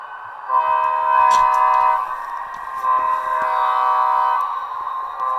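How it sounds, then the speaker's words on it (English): Bachmann GP35 DCC model locomotive's sound system plays a loud, droning multi-tone horn-like blast in two long sustained stretches with a short break, close and without talk. "Alright, let's get the train going. I'm going to put it up to notch 3"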